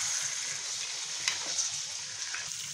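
Chicken frying with masala in a pan, a steady close sizzle running throughout with a few faint stirring scrapes and no talk.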